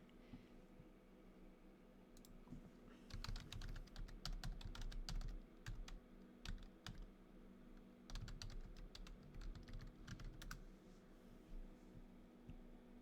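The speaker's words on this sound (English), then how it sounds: "so let me type it in" Typing on a computer keyboard in bursts of rapid clicks, with pauses between runs, close and fairly quiet over a steady low hum.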